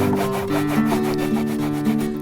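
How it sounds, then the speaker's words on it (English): Neatsfoot oil is rubbed into the leather of a handmade knife sheath with quick, rhythmic strokes, making a loud, close scrubbing and rubbing sound with no talking. "now I'm going to put a little bit of neat's foil on here. It just kind of softens the leather a little bit."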